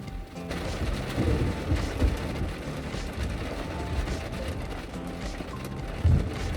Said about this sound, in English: we got to drive in the rain